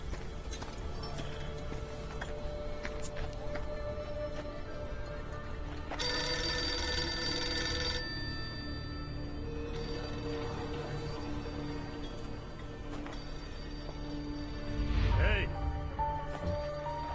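A telephone bell rings in repeated two-second bursts with pauses, fairly faint under a steady background hum, in an office scene of a Telugu action thriller film, with brief talk nearby.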